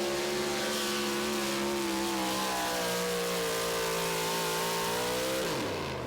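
A four-wheel-drive pulling truck with a Sonny's automotive engine roars at full throttle during a truck pull at the Dairyland Super Nationals in Tomah, Wisconsin, a loud sustained rev that falls in pitch near the end.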